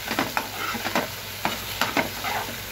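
Chicken samosa filling being stirred and fried in a pan, with steady soft sizzling under repeated scraping and stirring strokes, close and moderately loud, with no talking.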